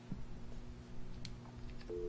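Telephone line tone from a phone in the video game Alan Wake: a steady electronic tone holds throughout, with faint game ambience and short chimes underneath and no voices.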